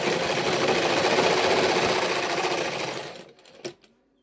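A sewing machine runs steadily, stitching a jacket body in a fast continuous whir for about three seconds, then stops with a few faint clicks and handling noises.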